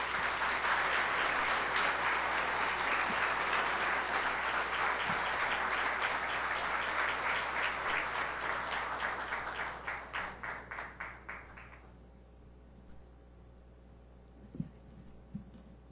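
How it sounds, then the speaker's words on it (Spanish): A conference audience in Mexico applauds steadily for several seconds, the clapping thinning into scattered claps before fading to room hum with a couple of soft thumps. "Un fuerte aplauso para ella."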